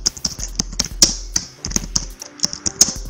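Quick, uneven clicks of keys on a computer keyboard, typed close up in short bursts with brief pauses, nearly alone in a quiet room.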